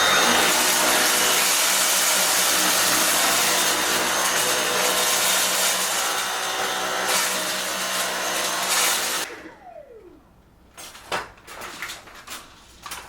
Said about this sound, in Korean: 다이슨 같은 경우에 딱딱한 바닥에서 사용하는 브러쉬를 사용해서 조금 큰 이물질을 한번 청소해 보겠습니다